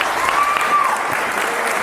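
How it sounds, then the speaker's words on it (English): Audience applause fills a live talk event, a steady, dense wash of clapping from a crowd that holds at an even level throughout without fading. "Give him a round of applause."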